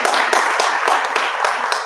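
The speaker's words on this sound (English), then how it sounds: "we gotta give a clap for that" A small audience at a campaign finance talk claps, a loud, close burst of individual sharp hand claps in a quick irregular rhythm over about two seconds.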